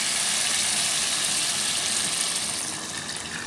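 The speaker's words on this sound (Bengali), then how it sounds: "এখন কিন্তু আমি জলটা দিয়ে দিব।" Water poured into a pan of fish curry masala, where the oil has separated from the spice paste, makes a steady, close rushing splash that holds for several seconds and eases slightly at the end, with no talk.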